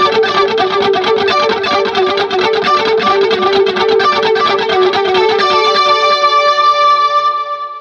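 Electric guitar run through a pedalboard with a chorus effect, a shimmering, rapidly strummed passage that settles into sustained ringing chords, loud and close with no talking.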